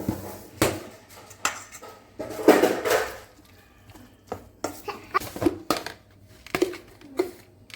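Ginger, chilli and garlic are mixed in a bowl for vegetable dhokla, giving intermittent close clinks and scraping knocks of a utensil against the bowl, irregular and separated by quiet gaps.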